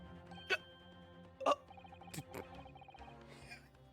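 Short hiccup sound effects pop from The Great Ace Attorney Chronicles, several quick bursts over quiet game music and chimes.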